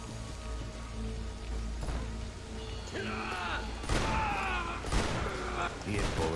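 Scattered bursts of gunfire in Max Payne 3 pop and crackle, starting sparse and then thickening into heavier volleys, with someone talking over the shots.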